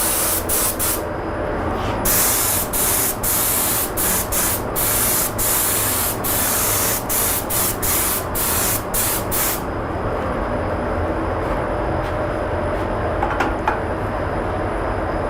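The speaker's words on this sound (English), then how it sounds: "see what we have in just a bit by spraying some clear lacquer" A spray gun applies clear lacquer to a wood piece dyed with TransTint, a loud hissing spray fired in short repeated bursts, then a sustained spray toward the end.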